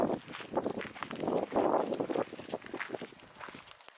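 Footsteps of people walking dogs outdoors on a holiday stroll, a quick irregular patter of steps and paws with light scuffing, close and continuous.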